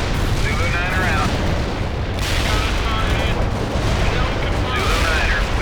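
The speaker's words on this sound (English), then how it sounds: "Understood. Coordinates received. Artillery firing." Artillery in the World in Conflict video game fires and shells explode as a constant, loud, dense rumble of booms and blasts that fill the whole stretch.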